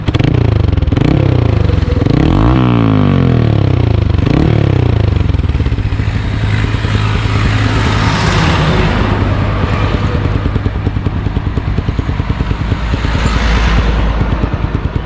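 A Bajaj Apache motorcycle fitted with an Akrapovic exhaust and dB killer is revved up close, with loud rising and falling throttle blips early on that settle into a steady, rough, throbbing engine note.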